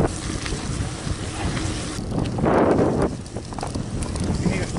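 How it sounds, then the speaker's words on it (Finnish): Gravel bike tyres hissing steadily on the road while riding, with wind buffeting the microphone throughout and a louder rush of wind and rolling noise midway. "Renkaan suhina kuuluu."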